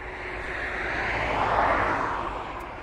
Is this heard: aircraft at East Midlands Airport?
yes